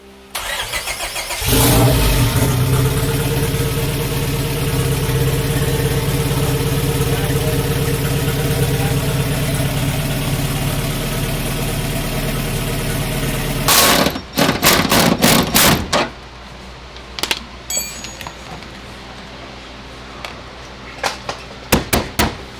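A turbocharged Honda Civic with an H23 engine cranks and catches, then runs at a steady, loud idle for several seconds before cutting off into scattered clicks and knocks.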